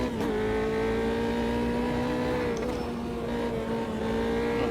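A P3 race car at the Red Bull Ring, heard from the cockpit as a loud, steady engine drone that dips briefly with a throttle blip before holding its pitch again.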